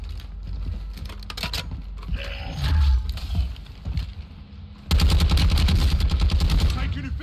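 Gunfire crackles through a Call of Duty firefight on Ashika Island, scattered shots early on, then a dense, loud burst of rapid automatic fire in the last seconds, with a voice speaking at points.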